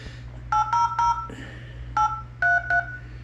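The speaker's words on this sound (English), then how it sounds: "Let's try calling up Monogram and see who's on the other end of the line." A modern telephone dials out with touch-tone keypresses, six short clear beeps in an uneven sequence over a low steady hum, heard close with no voices.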